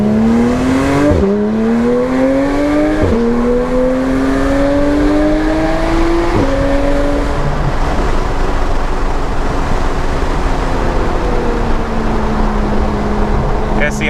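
A Porsche 911 GT3 engine revs up through several gear changes, climbing in pitch and dropping at each shift, then settles to a steady drone while rolling downhill, loud and close from inside the cabin.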